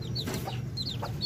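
An Aseel hen clucks softly among her small chicks, which chirp in quick high peeps around her low, close, rhythmic clucking throughout the short stretch.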